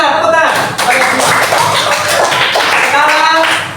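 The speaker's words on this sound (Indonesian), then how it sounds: "Jawaban benar, tepuk tangan." A classroom of students clapping after a correct quiz answer, the claps dense and overlapping, with voices and chatter mixed throughout.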